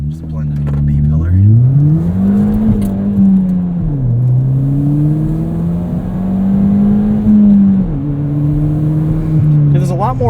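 A 2017 Ford Fiesta ST with a 1.6 turbo engine, modified for autocross, drones loudly from inside the cabin while being driven, its pitch climbing and dropping through several surges as it accelerates and shifts.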